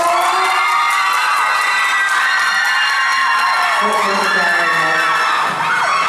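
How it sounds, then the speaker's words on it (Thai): A crowd at a Thai event welcomes a guest with loud, high-pitched screaming and cheering, shrill voices overlapping continuously with some clapping mixed in, close and intense throughout. "ขอเสียงปรบมือต้อนรับ คุณ ออฟ สุพนัทเอค"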